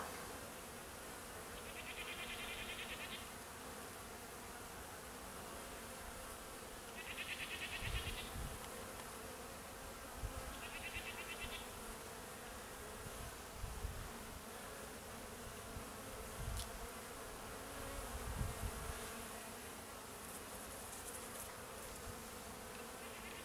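Honeybees circle on an orientation flight at an apiary, a steady insect buzz filling the air with a few brief higher-pitched passes as bees fly close, no voices.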